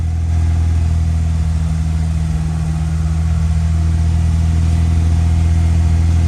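An Acura Integra engine idles high and steady up close, a loud continuous mid-pitched drone with a strong even hum and no voices.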